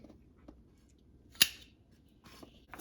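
A knife slices through thick homegrown mushrooms at the soil surface, giving one sharp, close crisp cut amid quiet, faint room background.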